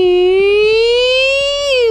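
A voice imitating an ambulance siren, one sustained rising wail held close and loud for about two seconds, alone.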